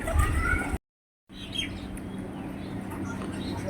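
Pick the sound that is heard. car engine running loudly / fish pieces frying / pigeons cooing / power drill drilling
pigeons cooing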